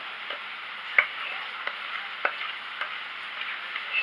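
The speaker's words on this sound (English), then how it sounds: "I'm going to scrape the bowl." A spatula scrapes cornbread mix out of a mixing bowl in a home kitchen, a steady, close, soft rasping broken by a few light clicks, with no talking.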